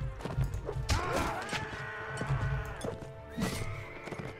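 A horse whinnies in the video game Mount and Blade Warband, several loud, wavering neighs mixed with hoof clatter and impact thuds from nearby combat, close and clear.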